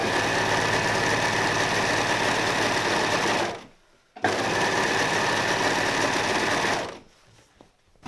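An electric sewing machine runs a zigzag stitch on fabric for a table ironing-board cover, a loud steady whirring buzz in two long bursts separated by a short pause, then stopping.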